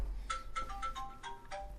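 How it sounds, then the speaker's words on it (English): A phone ringtone sounds from across a room, a faint melodic electronic tune of several quick repeating bursts that plays on through a low background hum. "sorry about the phone"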